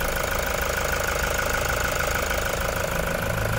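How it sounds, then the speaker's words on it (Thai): A 2016 Toyota Commuter van with a 3.0 diesel engine idles steadily, giving a constant, even, close-up clatter and rumble with no other sounds. "ตอนนี้เราสตาร์ทเครื่องยนต์อยู่นะคะคุณลูกค้าฟังเสียงเครื่องยนต์ได้เลยค่ะ"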